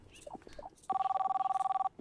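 A phone in a spicy chicken-leg cooking game gives one steady electronic trill lasting about a second, fairly loud and close, following faint chatter.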